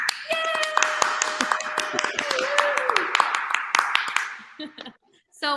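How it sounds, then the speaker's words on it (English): Applause sound effect from an applause button on a talk show, a dense burst of clapping that runs steadily for about four seconds under and around speech, then cuts off sharply. "Applause button."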